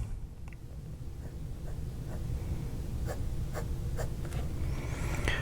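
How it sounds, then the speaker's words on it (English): Fountain pen with a hooded nib, a Jinhao 991, writing on paper: faint, soft scratching strokes and light taps in a quiet room, close up and steady beneath low background hum. "I'm going to write with this hooded nib in the Jinhao 991."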